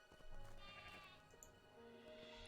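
Sheep bleating in the video game Craftopia, a drawn-out wavering bleat followed by fainter game sounds and a brief click at the end, no speech.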